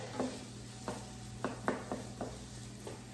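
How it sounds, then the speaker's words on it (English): Red onion sautés in a couple of tablespoons of olive oil in a pan under a faint, steady sizzle, punctuated by several soft, spaced knocks and scrapes of stirring, all quiet and close. "I'm going to add my onion, and I'm going to saute that for a little bit."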